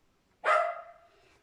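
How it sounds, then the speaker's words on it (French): A single loud, close dog bark with a sharp onset and a short trailing yelp-like tail, heard in a quiet room. "je vais ouvrir à mon chien parce qu'il va pas arrêter de gueuler sinon"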